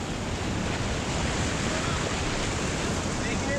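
River rapids in Tallulah Gorge roar as a raft runs through them, a loud, steady broadband rush of churning whitewater and wind that fills the whole moment without a break.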